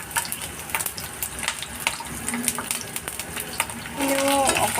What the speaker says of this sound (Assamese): এতিয়া মই ইয়াতে এই কেপচিকামখিনিও ভাজি ল'ম।